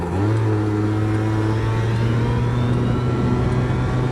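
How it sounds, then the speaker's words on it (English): A Yamaha BWS 100 scooter fitted with a Malossi 125cc kit and straight cut gears runs at a steady high pitch, its gear whine and engine drone loud and close without any talk. "I hope you guys can hear those straight cut gears."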